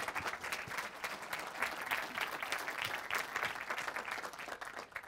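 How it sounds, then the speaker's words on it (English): A crowd applauding steadily and warmly, dense clapping throughout with a few voices mixed in. "let's give our lovely Anne a final round of applause"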